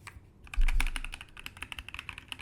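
Quick, light typing on a small pink Glorious GMMK2 modular mechanical keyboard, soft rapid keystroke clicks in a close, quiet room.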